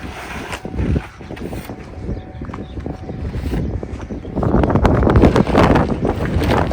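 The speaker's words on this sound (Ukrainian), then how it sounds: "бачиш, вітер знову піднімається, так?" Gusty wind buffets the microphone with a rough, rumbling roar that swells louder toward the end, outdoors on a farm field at sowing time with no talking.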